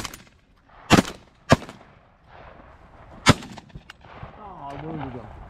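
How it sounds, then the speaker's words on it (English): Shotguns fired at geese from a blind during a Maryland goose hunt: three loud, sharp blasts spaced out over a few seconds, with low voices and rustling between them and a goose's honking calls near the end. "Get ready to shoot them."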